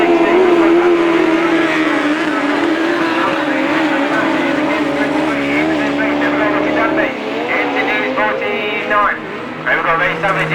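Autograss race cars roar around a dirt oval at a St Neots meeting, a loud continuous engine drone with shifting revs, under steady commentary from a voice over the track.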